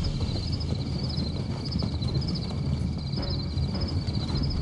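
Cavalry horses in the medieval strategy game Great Battles Medieval, a steady clip-clop of many hooves at a moderate distance, continuous and even, with no talk over it.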